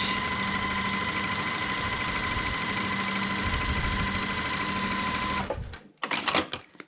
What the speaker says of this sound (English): And we'll sew that on 1/4 inch.